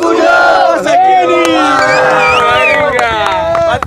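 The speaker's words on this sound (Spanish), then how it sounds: "¡Aplausos!" Crowd at a freestyle rap battle final roaring and shouting, a loud dense wall of voices and whoops swelling continuously, with applause buried in the noise.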